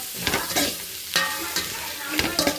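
Capsicum, carrot and cabbage stir-fried with salt in a pan for veg fried rice, with irregular scraping strokes of a spatula over a soft sizzle, close and clear.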